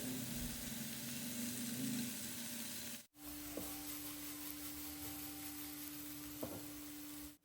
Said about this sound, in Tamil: இப்ப இங்க வேக வச்சிருந்த சிக்கனும் ஒரு சைடு நல்லா குக் ஆயிட்டு இப்ப அடுத்த சைடு மாத்தி வச்சு கொஞ்சம் வேக விடுறேன்.